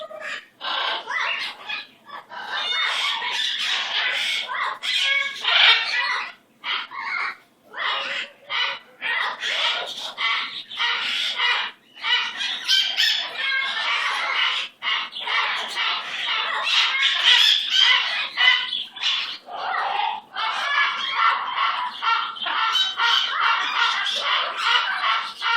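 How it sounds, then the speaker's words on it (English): A small green pet bird squawks and chatters almost nonstop, loud and close, in dense harsh bursts with only brief pauses. "That's my little green bird."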